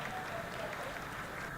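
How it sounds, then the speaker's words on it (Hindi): Applause breaks out in the mission control room during the Chandrayaan-3 soft-landing, a brief wash of crowd clapping with a voice faintly underneath. "Lot of applause indicates that till now the performance has been nominal."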